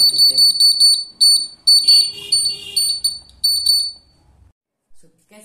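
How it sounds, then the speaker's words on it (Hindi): A homemade earthquake alarm buzzer shrills loudly in repeated high-pitched bursts with short gaps, while a person talks over it and a low rumble fades out near the end. "जैसे ही अर्थक्वेक आएगा बहुत तेज बजता है ये"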